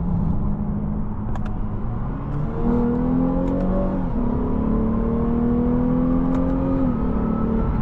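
A 2020 Lexus RC 350 F Sport engine revs and accelerates, its pitch climbing then dropping at a gear shift and rising again, steady and fairly close, with no talking.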